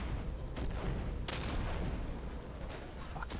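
Gunfire in the World War II shooter Day of Infamy, a few sharp shots cracking at intervals over dense, steady battle noise, fairly faint overall and without clear speech.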